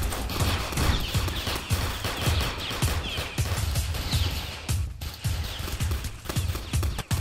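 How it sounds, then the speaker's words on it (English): Gunfire in a Roblox South Bronx hood roleplay game: a steady string of fairly faint, repeated shots with an irregular rhythm, popping throughout at a moderate distance. "I see that they shooting."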